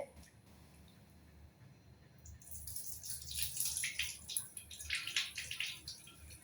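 Poha (flattened rice) being rinsed in water in a home kitchen, soft splashing and dripping that grows busier midway, quiet and close with no talking.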